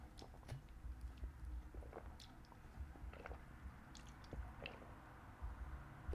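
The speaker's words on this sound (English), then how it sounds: "I'm gonna take a little sip." Someone takes a little sip of water, heard up close as quiet, wet squishy mouth sounds and soft gulps over a hushed room, with no talking.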